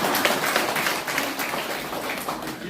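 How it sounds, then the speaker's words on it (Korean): A room full of people claps steadily in dense applause, filling the space at moderate volume throughout. "박수."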